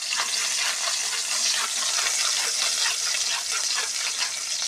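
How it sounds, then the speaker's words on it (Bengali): Onions sizzle and crackle in hot oil while goat meat and tangri are being cooked, giving a steady, close, fairly loud hiss that runs through the clip with no talking over it. "তেল গরম হয়ে গেছে, কিছু দিয়ে দিয়েছি।"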